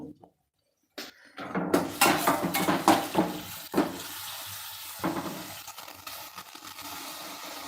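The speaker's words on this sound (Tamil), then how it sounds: "இப்போ முருங்கைப்பூ இருக்குது இதில் முருங்கைப்பூவையும் நாம் இதில் போட்டு வதக்குவோம்" Drumstick flowers being stirred and sautéed in a pan for a rasam, with repeated scraping and clinking of a utensil against the pan, fairly close, after a short silent gap at the start and no talking.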